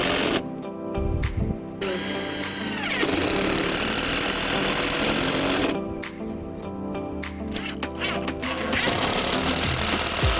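A power driver sets screws into the wooden roof structure of a playhouse kit, close and loud in several bursts with short pauses between them.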